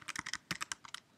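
Keys clatter on a computer keyboard as a file name is typed, a quick run of close, crisp taps in two short bursts with a brief pause between.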